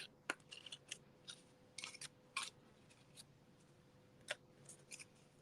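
Scissors snip through glued craft material in a series of short, quiet cuts with small clusters and pauses between them, close up in a quiet room.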